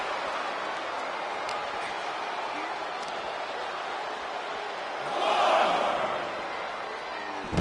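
A wrestling arena crowd roars in a steady, distant wash of cheering that swells louder for a moment near the end, with a commentator talking over it.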